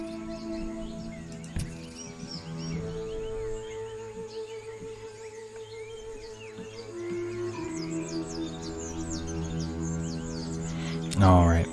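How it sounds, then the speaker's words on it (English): In the Empires of the Undergrowth game, ant birds call overhead with scattered chirps and tweets over a layered, droning ambient soundscape, moderately faint, with a brief louder burst near the end. "the ant birds are circling overhead"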